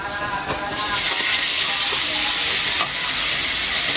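Spices and garlic paste fry loudly in hot oil, a bright hissing sizzle that swells after the first second and holds, with brief stirring scrapes close by.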